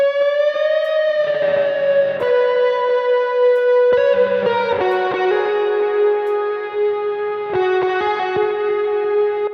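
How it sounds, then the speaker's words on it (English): Electric guitar playing a huge sustained bend drenched in heavy reverb, a loud singing tone sliding in pitch and ringing on with wide, washy tails, alone with no talking. "not just the fucking gigantic boomer bend, but the insane amount of reverb that I have on this"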